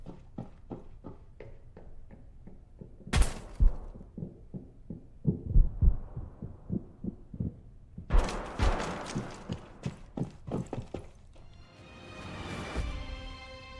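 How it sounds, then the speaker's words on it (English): Low thumping footsteps and sharp gunshot bursts from the video game Rainbow Six Siege, a regular run of dull thuds broken by several loud cracking shots with ringing reverberant tails. "listen to the low frequency thump of her footsteps and gunshots"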